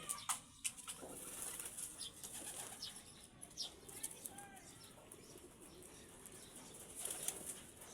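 Pigeons flap and coo faintly at a distance, with soft wing bursts and a few low coos over quiet outdoor background noise.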